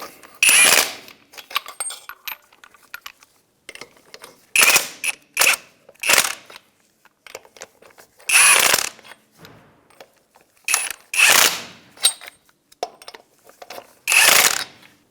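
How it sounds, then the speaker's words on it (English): Locking lug nuts being snugged up on a 1992-1996 Ford F-150 wheel, loud close bursts of ratcheting and impact-tool rattling separated by short pauses, repeated several times. "We're going to snug these up in a star pattern."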